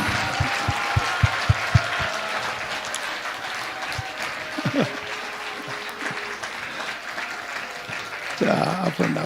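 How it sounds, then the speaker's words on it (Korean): An audience at a live talk show event with a pastor and a retired army general breaks into sustained applause welcoming a guest to the stage, a few sharp claps standing out early, with a voice speaking over it near the end. "박수로 모시겠습니다."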